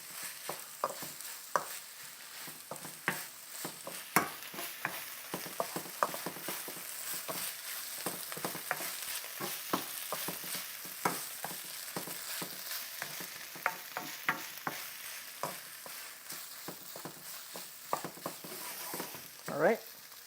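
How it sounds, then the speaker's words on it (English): Kimchi fried rice being stir-fried, with a spatula breaking up clumps of rice in a hot pan. A steady faint sizzle runs under frequent sharp scraping clicks, and there is little or no talking. "So I'm going to mix this in, and then I'm going to turn up the heat a little bit"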